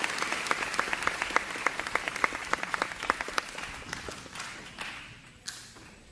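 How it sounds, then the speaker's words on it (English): Applause at an academic and athletic banquet, a moderate crowd clapping with sharp, closely spaced claps that hold steady and then taper off near the end. "A round of applause."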